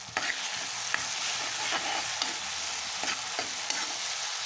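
Cooked tomatoes in a pot being stirred, with a continuous hiss of frying and regular spoon scrapes every half second or so, close and steady, no speech.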